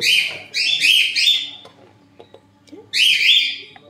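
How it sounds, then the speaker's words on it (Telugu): Pet birds calling indoors in a kitchen, bright chirping bursts that come and go in two loud clusters with a quieter gap between, close to the microphone over faint room noise. "చూసారా మధ్యలో మధ్యలో మా బర్డ్స్ ఎలా అరుస్తున్నాయో"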